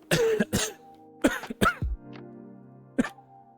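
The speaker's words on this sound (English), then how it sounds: "It's normal cough." Several short, sharp coughs and a throat clear come in quick bursts, close and fairly quiet, separated by brief pauses.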